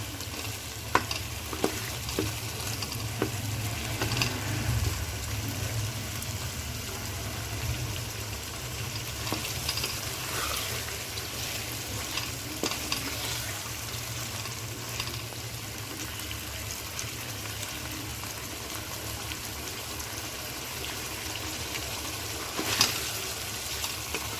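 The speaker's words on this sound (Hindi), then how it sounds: "अब हम इसमें मटर डालते हैं। मटर हमने इसमें डाल दिए। अब इसको मिक्स करते हैं।" Peas being stirred into a chicken curry as it fries, a steady close sizzle with spoon scrapes and clinks throughout, no voices over it.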